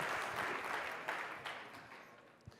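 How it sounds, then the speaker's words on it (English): A live audience at a Las Vegas event applauds as Declan Devereux comes up to speak, a steady, moderately faint wash of clapping that slowly thins out. "Please give him a round of applause, Declan Devereux."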